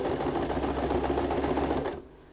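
A sewing machine runs a steady straight stitch through leather on a handbag, a fast even mechanical chatter close by that stops abruptly near the end, leaving quiet room tone.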